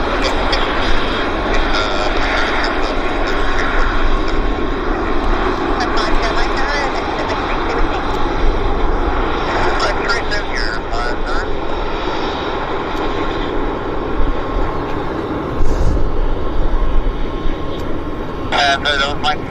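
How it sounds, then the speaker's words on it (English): Classic jetliner without winglets rolling out at Vancouver airport: a loud, steady engine roar with a broad rumbling hiss that holds throughout, swelling slightly near the end. "Nice classic jetliner."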